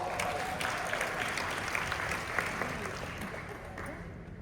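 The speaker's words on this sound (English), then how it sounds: "Give yourself a round of applause." A conference audience of mental health wellness leaders claps steadily throughout, a dense, even wash of applause that holds at roughly the same loudness before easing slightly at the end.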